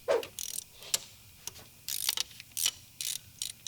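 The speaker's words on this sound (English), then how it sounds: "Are you videotaping me using a ratchet and lefty loosey righty tighty?" A hand ratchet loosens a banjo fitting on a Cummins diesel engine, producing close, quick bursts of clicking pawl ratchets in short irregular strokes with brief gaps between them.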